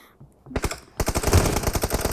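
Automatic gunfire in the mobile battle-royale game PUBG Mobile: a short burst of rapid shots, then a longer loud rattling volley close by, with no talking.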